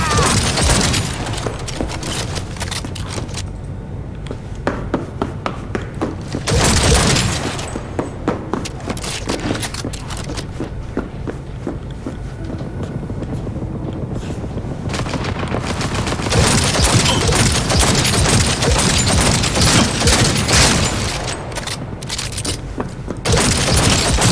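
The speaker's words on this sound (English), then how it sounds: "Open fire!" Sustained gunfire in the video game Cyberpunk 2077, dense bursts of automatic and rapid shots with booming impacts, loud and continuous across the whole stretch with only brief lulls.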